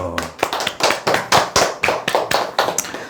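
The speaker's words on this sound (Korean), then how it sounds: "네, 박수." Steady rhythmic hand clapping, about a dozen sharp claps at an even pace, close and fairly loud.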